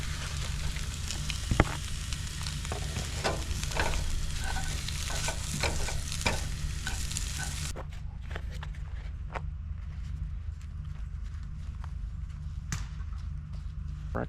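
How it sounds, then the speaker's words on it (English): Eggs and sausage fry in a pan at a campsite breakfast, a steady close sizzle with intermittent scraping and stirring clicks from a utensil, the hiss thinning partway through while the clatter continues. "These eggs are pretty much done, and now put the sausage back."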